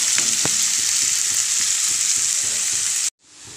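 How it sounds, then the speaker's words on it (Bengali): Ingredients fry in hot oil in a Bangladeshi home kitchen, a loud, constant sizzle with rhythmic scraping stirs beneath it, cutting off abruptly near the end before faintly returning. "দিয়া তেলের মধ্যে একটু লাড়াছাড়া করিয়া একটু মানে উল্টাই পাল্টাইয়া দিই"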